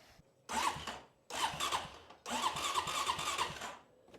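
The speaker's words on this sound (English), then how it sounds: "we got to make the engine go whirling" A Honda TRX400FA ATV engine cranking with its crankshaft position sensor unplugged, in three separate bursts, the last one longest. It whirs loudly each time but never catches, with short pauses between attempts.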